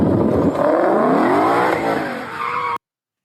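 A Ford Mustang accelerates hard through a turn, its engine revving up in rising, sweeping tones layered over loud tire squeal and skidding, close and intense for nearly three seconds before cutting off abruptly.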